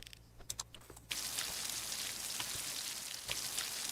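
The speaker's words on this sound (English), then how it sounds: "did they get watered because it's raining?" Steady rain falls in the farming video game Moonlight Peaks, a dense, even hiss that starts abruptly and stays close and constant, with a few soft taps just before it begins.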